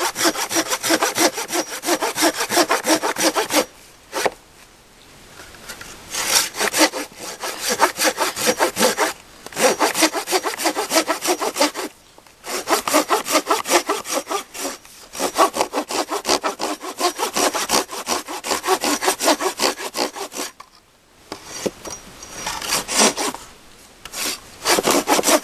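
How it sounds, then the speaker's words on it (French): Rhythmic back-and-forth strokes of a Fiskars hand saw rasping through wood, close and loud, with several brief pauses between runs of strokes. "Je tiens le bout de bois là pour appuyer un petit peu dessus pour que les fibres"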